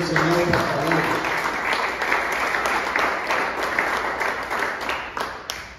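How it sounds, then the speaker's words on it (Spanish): Congregation applauding during a Spanish-language church service on the Holy Spirit, steady dense clapping throughout at moderate loudness, with voices talking and calling out underneath. "Dale ese aplauso al Señor, por favor"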